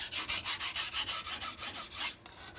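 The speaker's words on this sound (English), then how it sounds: "that's why I like the Mac knife, easy to sharpen" A MAC chef knife drawn across a sharpening stone in quick, even back-and-forth strokes, about a dozen rhythmic gritty rasps close up before a brief pause and a final softer scrape.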